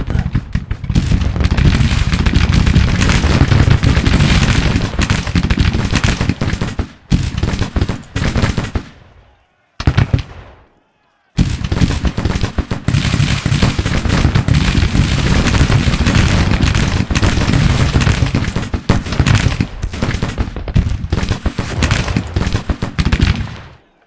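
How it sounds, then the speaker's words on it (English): Dense, nearly continuous volleys of cannon and gunfire in a Civil War video game battle at Manassas, very loud and overlapping. A couple of brief silent gaps break up the din. "Artillery's opening up."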